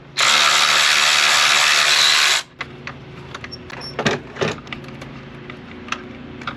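A ratchet spins loose a 10mm nut on the battery brace of a Nissan 370z, a loud, fast, continuous ratcheting burst up close, followed by lighter scattered clicks and taps of metal parts.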